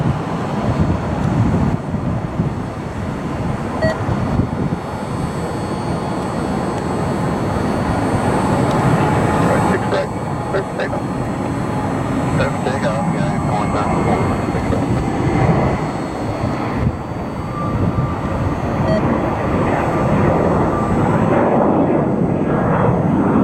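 An airliner makes its takeoff roll at Cleveland airport, a broad continuous jet engine roar with buffeting wind noise holding steady across the whole stretch, no voices.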